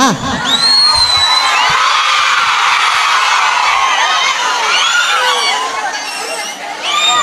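An audience at a comedy show whoops and whistles loudly, with rising and falling whistles over dense crowd cheering and shouting that stays close and fills the whole stretch.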